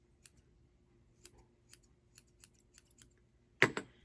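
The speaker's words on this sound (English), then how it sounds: "Just go in with some scissors." Faint scissor snips trimming felted wool click sparsely in a quiet room, ending with two louder, closer cuts.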